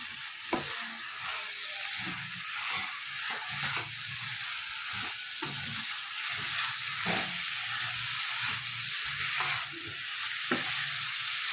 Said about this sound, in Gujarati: હવે આપણે ધીરે ધીરે સરસ બધું મિક્સ કરી દઈએ.